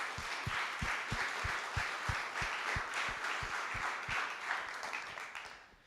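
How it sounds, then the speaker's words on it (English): An audience claps steadily for the speakers at an AI talk event in Cape Town, a dense sustained round of applause with a few sharper individual claps standing out, fading toward the end. "Please join me with a round of applause."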